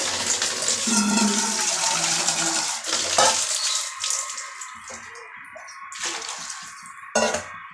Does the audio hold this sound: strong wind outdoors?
no